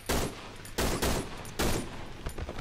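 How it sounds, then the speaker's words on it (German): Gunfire from the Cry of Fear video game comes in three loud, close bursts of rapid shots at irregular intervals, followed by quieter rattling and no speech. "Ich hab gerade mein ganzes Magazin in diesen Hurensohn verschossen"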